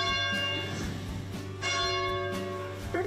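A church bell at the Church of the Wayfarer in Carmel rings loud and sustained, its overlapping strokes swelling at intervals with a long, ringing hum beneath.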